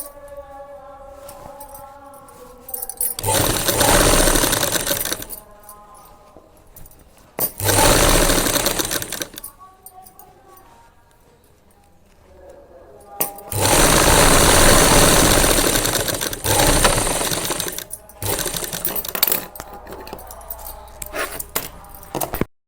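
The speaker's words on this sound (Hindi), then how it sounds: "और अभी तो मैं सिलाई करत हूँ" A sewing machine stitching in loud, close bursts of steady whirring that start and stop several times, with quieter gaps in between.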